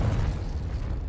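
A Confringo spell blast in the Hogwarts Legacy video game, a loud, continuous low rumbling explosion that holds steady for about a second with no fade.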